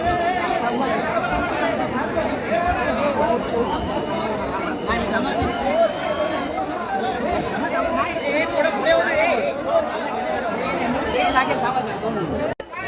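A dense crowd murmurs and chatters at the Lalbagcha Raja darshan in 2025, a steady, close babble of many voices that continues without pause.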